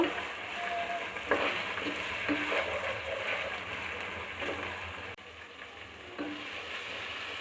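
Onions frying in hot oil with ginger and garlic for a Bengali chicken curry, a steady close sizzle and crackle with occasional stirring scrapes and no talking.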